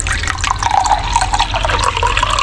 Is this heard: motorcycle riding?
no